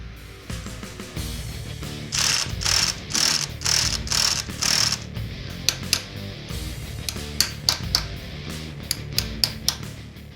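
Ratchet wrench tightening a sprocket bolt on a motorcycle hub, a burst of fast, loud clicking strokes followed by scattered sharper clicks and clanks, close up with no talking.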